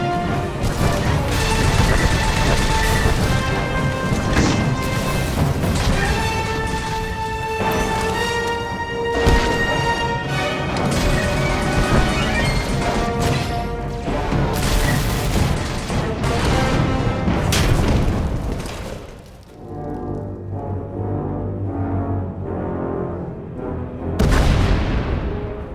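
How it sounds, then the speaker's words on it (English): Booming explosions and crashing debris from a tunnel collapse in a Star Wars: The Old Republic battle, loud and continuous over a dense musical score, with heavy impacts near the start and a final burst near the end. "We heard explosions, the tunnel collapsed."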